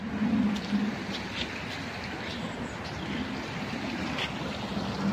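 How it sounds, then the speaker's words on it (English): A small waterfall beside a reservoir gives a steady, faint rushing and trickling wash of water, with a low murmur of voices briefly audible. "It's a little waterfall here."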